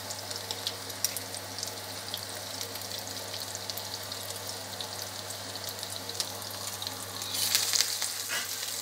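Potato croquettes frying in hot oil in a home kitchen give off a steady, close crackling sizzle that runs unbroken throughout, growing a bit louder and busier near the end, with no talking.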